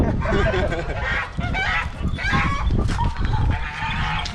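Geese honk repeatedly in a loud, noisy flock, calls overlapping continuously with no pauses, close by.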